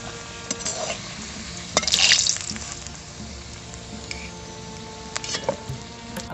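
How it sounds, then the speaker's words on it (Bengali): Potatoes frying in hot oil in a pan, a steady close sizzle with a louder crackling burst and occasional stirring clatter, no voices. "আলুগুলো আমি লাল লাল করে ভেজে নিয়েছি"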